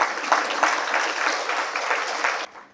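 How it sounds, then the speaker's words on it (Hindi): An audience at a Hindi spiritual talk on meditation breaks into steady applause that carries evenly for over two seconds before cutting off sharply near the end. "तालियां बजाएंगे तो क्या जाएगा आपका।"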